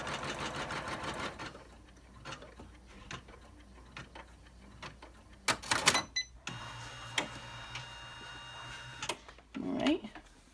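An embroidery machine stitches an in-the-hoop business card holder, its needle tapping in quick mechanical runs broken by pauses, with a steady, fast, close stitching stretch in the middle and scattered knocks around it.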